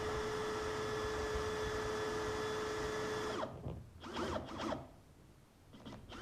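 A power drill whines steadily as it bores into a guitar neck, then stops; several short bursts of scraping and handling noise follow at a quieter level.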